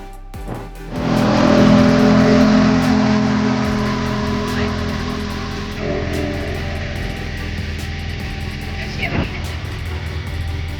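A motorboat engine starts and revs up for a boat ride at Poovar island, a steady loud drone rising in the first second and holding throughout.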